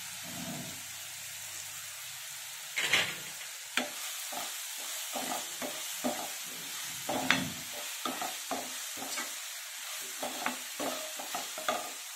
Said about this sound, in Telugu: ఇవి ఫ్రై అవుతుంది కదా